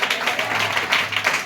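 At a Mustabad church service, worshippers clap together in an even, rapid rhythm. The clapping is close and continuous over a faint voice.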